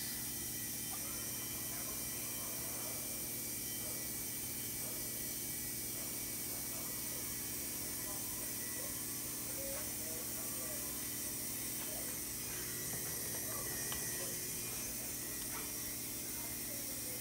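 A continuous mechanical hum and hiss from a small homemade refrigerant recovery pump running steadily on an LG refrigerator, with faint ticking and rattling throughout and no clear speech.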